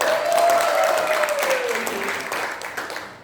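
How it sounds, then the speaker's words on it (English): Audience applause at a cricket-themed event with Dinesh Karthik at Fabelle, a steady wash of clapping from a crowd with a faint tonal sweep running beneath it, fading gradually toward the end. "Do I hear a round of applause and cheer up?"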